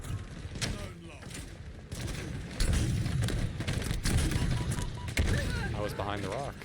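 Rockets and rapid gunfire from a Halo Infinite Big Team Battle match, with bursts and booms layered over a continuous busy game mix while a player talks throughout.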